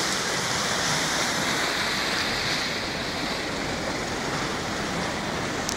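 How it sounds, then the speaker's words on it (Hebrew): Flash flood water roars through the Nahal Refaim stream near Battir, a steady, loud, dense rushing torrent filling the whole stretch without pause or voices. "תראו איזה שיטפון"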